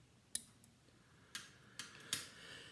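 Small scissors snipping away waste thread while tying a fishing fly: a few crisp, close metallic snips spaced irregularly over a quiet background.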